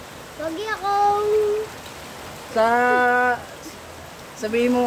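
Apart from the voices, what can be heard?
heavy rain falling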